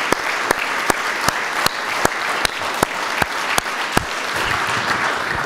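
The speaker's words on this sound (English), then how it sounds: "So if you would, big round of applause" A crowd at an annual summit dinner gives a big round of applause in memory of an attendee's late father. The clapping is close and sustained and is punctuated by a steady series of sharp, regular individual claps near the microphone.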